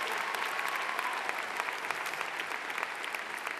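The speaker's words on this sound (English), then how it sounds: "Give yourselves a big round of applause." A high school graduation crowd applauds the class of 2009, a dense, even wash of many people clapping in a large space, somewhat distant and steady throughout.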